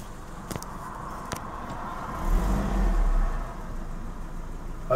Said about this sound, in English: Idle's pretty smooth.